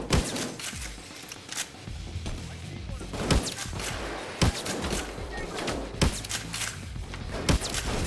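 Sniper gunfire in the video game Payday 2, several sharp isolated shots spaced a second or two apart over a steady background of game ambience, fairly loud against the mix.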